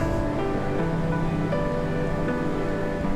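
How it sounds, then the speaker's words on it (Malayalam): A steady, fairly close rush of water pours over the rocks of Kozhippara, a long waterfall dropping in several tiers. The roar holds constant and unbroken, with no voices. "നീണ്ട വെള്ളച്ചാട്ടം എന്ന് തന്നെ പറയാം"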